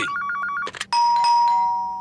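A cartoon doorbell rings with a rapid electronic trill, then a short jangle and a long, steady chime. It sounds loud and close, with no voices.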